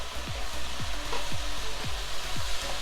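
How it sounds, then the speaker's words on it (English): Onions sizzle steadily in a pan with ginger garlic paste for a chicken dish, with a continuous frying hiss and a few soft stirring scrapes at regular intervals. "I'm still frying the onions"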